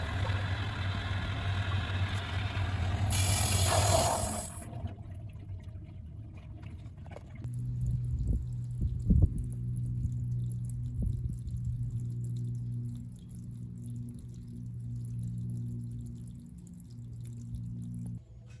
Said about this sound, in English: Usually we need to flush multiple times to remove all sediments out of the heater.